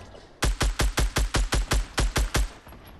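A rapid string of ten evenly spaced gunshots rings out in a video game, loud and close, each crack sharp and punchy, with a quiet background before and after the burst.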